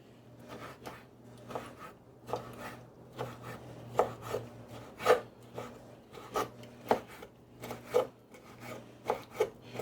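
A knife chops preserved lemon skin on a cutting board in a steady run of close, crisp cuts.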